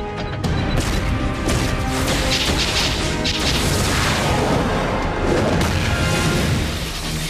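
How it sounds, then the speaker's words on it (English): Artillery explosions in the Injustice fighting game land as a dense, continuous barrage of loud crashes and booms, close and unbroken for several seconds with no talk. "while I call down some artillery"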